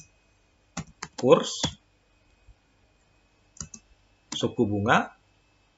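Sparse clicks from a computer keyboard as variable names are typed into a regression equation, a few short bursts of keystrokes set between stretches of someone speaking.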